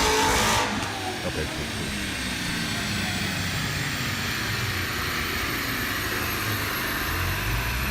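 A stock Chevrolet C6 Corvette ZR1 runs on a chassis dyno, its engine holding a loud, steady roar that fills the whole stretch, with a brief voice near the start.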